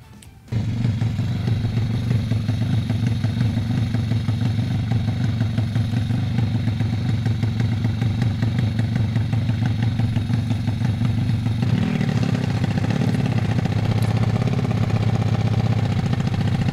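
A race motorcycle with a technical problem idles loudly and steadily at close range, its uneven mid-pitched chug running throughout with a slight shift in tone near the end; no voices.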